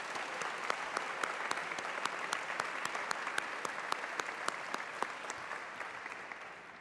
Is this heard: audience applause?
yes